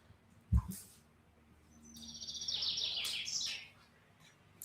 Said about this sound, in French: Ce sont des vrais oiseaux qui chantent.